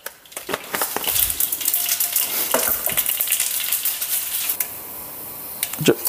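Mustard seeds sizzling and popping in hot oil in a pan for masala dosa filling, rapid crackling bursts and sharp ticking pops over a bright hiss, close and loud, easing slightly toward the end.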